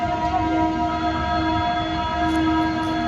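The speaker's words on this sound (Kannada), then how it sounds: "2:45ಕ್ಕೆ ನಮ್ಮ ಟ್ರೈನ್ ಬಂತು." A train pulls into a station with a sustained, steady tonal drone and a low rumble underneath, loud and continuous, with no voices.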